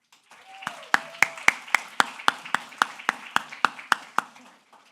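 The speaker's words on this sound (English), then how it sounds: "Let's give them one more round of applause." Sustained audience clapping for an award recipient at a youth entrepreneurship challenge ceremony, about a dozen sharp, evenly spaced claps standing out over a steady bed of applause for several seconds.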